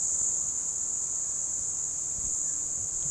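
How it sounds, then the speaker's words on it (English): Insects, likely crickets, chirp loudly and continuously outdoors on an overcast evening after rain, a steady high-pitched drone holding at one level throughout with no talking. "the bugs in the background are going absolutely crazy"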